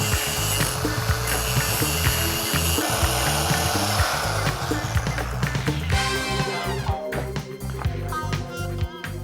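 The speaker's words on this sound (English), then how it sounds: "I've ground off the top of those 2 pins" A power grinder whines harshly as it grinds off the tops of motorbike chain link pins, loud and continuous, then gives way to rattling, ratcheting metal clicks toward the end.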